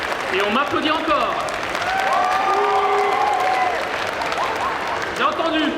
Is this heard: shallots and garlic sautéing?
no